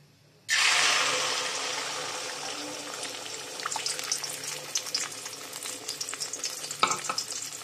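Onion and egg mixture, salted, hits a hot pan with a sudden loud sizzle that settles into steady close frying, with scraping and stirring clicks growing busier toward the end; no voices.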